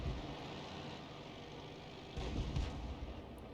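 A tank main gun fires in a tank battle video game, one heavy, sudden boom about two seconds in, standing out briefly from a low, steady engine rumble.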